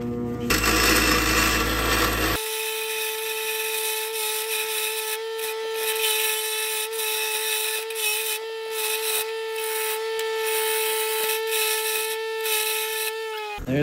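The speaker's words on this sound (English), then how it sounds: "we're gonna grind these little tabs down here so that they mold to our" A grinder runs steadily as little metal tabs are ground down on brackets for a Harley Davidson electric motorcycle build, making a loud continuous whine with a harsher rasping burst at the start. It is close and alone.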